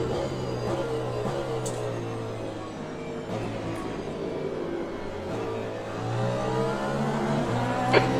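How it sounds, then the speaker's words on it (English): Cadillac Hypercar racing engine in the sim racing game Le Mans Ultimate, a steady droning hum with shifting harmonic tones that holds at a fairly constant level throughout, swelling slightly near the end. "Cadillac Hypercar on this game versus the Cadillac Hypercar on Automobilista 2. They sound kind of the same."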